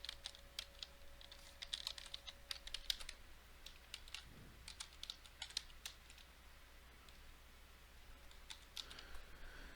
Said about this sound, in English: So let me type all that in,